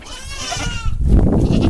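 Goats bleating at a farm, with several wavering, nasal cries close by and overlapping, followed by louder rustling and shuffling movement near the animals.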